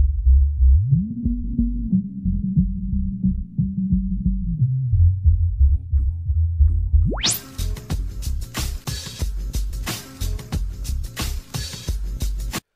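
A deep, sustained 808 bass tone slides up and holds, then a full 90s-style hip-hop beat kicks in with the heavy bass continuing underneath, loud and steady.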